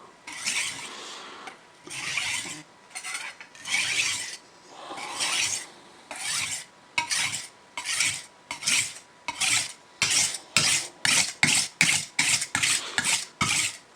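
A knife blade is drawn across a sharpening stone in repeated rasping strokes, slow and spaced at first, then quicker and more regular, close and clear with no talking.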